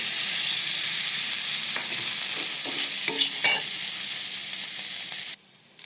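Ground spices fry in a hot pan with a loud, steady sizzle, broken by a few scraping stirs near the middle, before the sound cuts off abruptly near the end.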